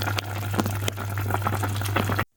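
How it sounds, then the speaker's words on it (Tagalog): Pata tim, a pork hock, boils in a pot over high heat, giving a steady bubbling, rolling wash with a low hum beneath and a few sharper pops, close and continuous until it cuts off abruptly. "Papakuluan lang natin. In a bit of high heat."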